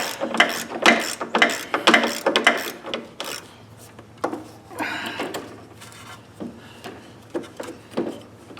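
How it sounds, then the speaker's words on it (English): The gearbox and axle are worked loose and pulled out of a Toro Personal Pace self-propelled lawnmower. The result is a close series of sharp metallic clunks, scrapes and rattles in uneven bursts, with quieter rubbing between them. "Finally pull that gearbox and axle right out."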